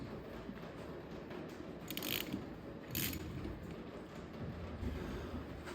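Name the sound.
trailer mechanism part moved back and forth, sticking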